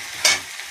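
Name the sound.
garlic sizzling and being stirred in fish curry pan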